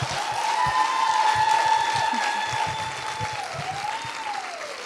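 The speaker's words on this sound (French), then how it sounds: "vous vous applaudissiez" An audience at a women's entrepreneurship event applauds steadily for several seconds, a dense, even wash of clapping heard from within the hall, with a faint sustained tone running beneath it.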